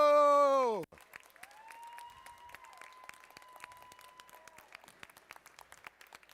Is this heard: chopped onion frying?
no